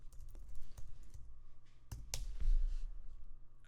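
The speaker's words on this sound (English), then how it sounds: "I open it up, type in my password." A computer keyboard is tapped as a password is entered, giving a short run of soft, uneven clicks with a couple of sharper keystrokes near the end, close and fairly quiet.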